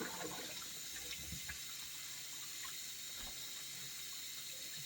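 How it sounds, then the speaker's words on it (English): Cool water runs steadily from a tap while a wig is rinsed in a shower, a soft continuous splashing wash with a few faint drips and bumps, quiet and without talk. "I'm going to rinse it thoroughly with cool water"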